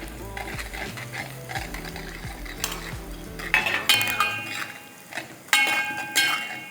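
Chopped garlic and ginger fry and sizzle in a pan for egg curry while a utensil stirs and scrapes against the metal in steady, close strokes.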